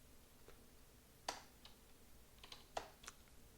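A computer keyboard is typed on in a few sparse, soft clicks and a couple of sharper keystrokes, quiet and close, with no voice.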